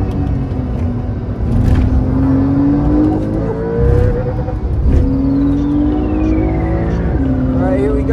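A race car roars down a long straight at Le Mans, its engine a loud, steady onboard drone that climbs in pitch through the gears with brief dips at each shift, and a faint voice underneath.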